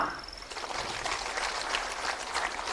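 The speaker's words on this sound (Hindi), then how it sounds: "तालियां" A crowd applauds at a government ceremony where the Chief Minister hands out appointment letters to successful candidates. The clapping is a continuous, even patter at moderate distance, fairly soft, with no voices over it.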